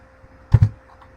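A quick double click from a computer keyboard key being pressed during CAD work, close and fairly loud against a quiet background.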